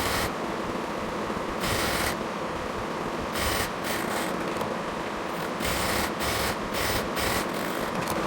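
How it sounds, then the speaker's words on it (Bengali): Sewing machine stitching the side seam of a 38-inch Sunnoti salwar, a steady close whirring drone broken by short pauses and restarts in a loose rhythm. "ঠিক সেমভাবেই হচ্ছে আমরা আরেক পাশেও সেলাইটা করে নিব।"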